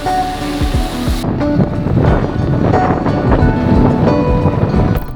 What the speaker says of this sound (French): Mais le vent qu'il y a dehors, truc de fou furieux.